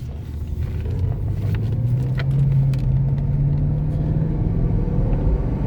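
A 1998 Mercedes SL500 accelerating on the road, its engine rumbling low and rising steadily in pitch as it pulls, heard from inside the car with no talking.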